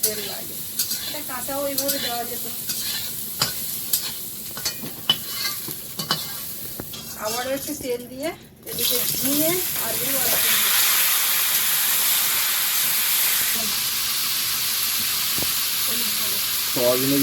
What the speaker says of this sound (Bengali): সয়াবিনটা ভালো করে ভাজা খুব দরকার